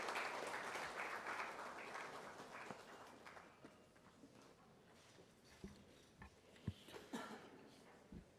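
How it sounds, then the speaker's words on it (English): An audience at an international children's literature conference claps to welcome Gujarat's Education Minister, the applause loud at first, then thinning into scattered claps and fading toward the end. "let's welcome him with a resounding round of big applause."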